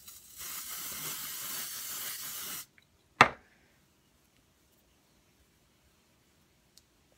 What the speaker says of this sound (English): texturizing spray. We'll try that.